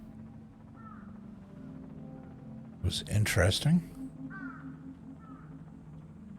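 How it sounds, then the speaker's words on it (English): A crow-like bird cawing in the video game Sable, a few faint cries in the background before and after a brief burst of speech. "The sound of a bird."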